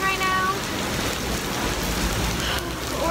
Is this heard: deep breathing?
no